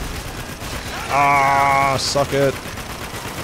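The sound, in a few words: mounted turret machine gun firing in video game Spec Ops: The Line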